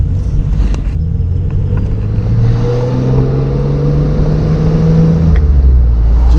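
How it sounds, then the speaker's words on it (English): A 3.8-liter V6 car engine with stock exhaust revs and climbs in pitch, a deep, throaty exhaust note rising steadily, loud and close, with no talking. "Can we also mention how nice that exhaust sounds? That stock exhaust."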